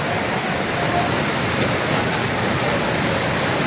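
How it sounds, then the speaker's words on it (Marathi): A large waterfall behind a resort, heard as a steady, loud, unbroken broadband roar of rushing water that holds an even level from start to finish with no voices. "खूपच मोठा असा सुंदर धबधबा आहे रिसॉर्टच्या मागच्या बाजूला"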